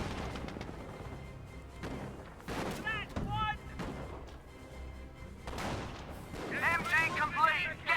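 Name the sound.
Staghound .50 cal machine gun fire in Company of Heroes video game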